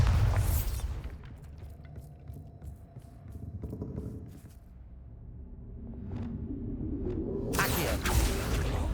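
Bombarda blasting spell in Hogwarts Legacy, a booming burst at the start that fades into low rumbling and scattered clatter, then another rising roar of debris near the end.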